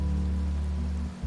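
Steady rain from a cutscene in the Wuthering Waves video game, a continuous soft wash of falling drops heard alone, close and even, with no voices.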